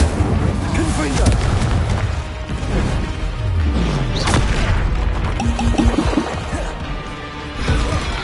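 Blasting spells exploding in Hogwarts Legacy, with repeated loud crashes and booms layered over game music and effects, dense and close throughout.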